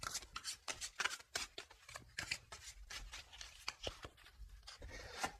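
Oracle cards are shuffled for a tarot-style reading, with quick papery riffles and soft slaps repeating at an uneven rhythm, close and quiet.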